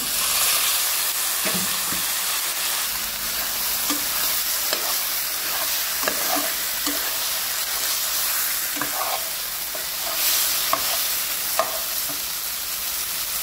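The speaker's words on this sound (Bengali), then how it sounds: "এখন আমি উপর থেকে ম্যারিনেট করা চিকেনটাও দিয়ে নেব। দিয়ে 3 থেকে 4 মিনিট মতন ভুনে নেব" Marinated chicken sizzles in a hot pan, a close, steady frying hiss broken by scattered scraping and knocking from stirring, with no voices.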